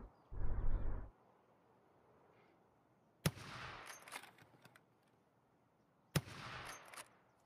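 Suppressed-sounding shots from the player's own gun in Escape from Tarkov: a muffled low thump, then two sharp cracks a few seconds apart, each trailing into brief echoing rattles over near silence.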